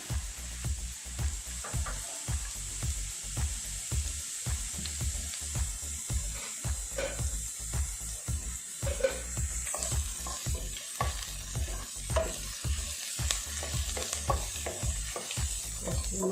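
Onions frying in oil for a goat head curry, a steady close sizzle with repeated scraping stir strokes throughout, no voices.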